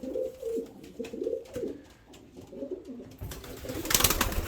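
Pigeons in a loft coo in low, repeated throaty pulses, fairly close, before a burst of brighter rustling noise at the end.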